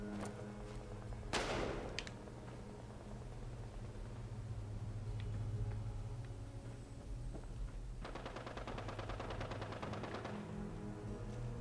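Gunfire in the Fallout 76 video game, Nuclear Winter mode: a sharp single shot early, then a rapid burst of automatic fire later over a low steady background hum.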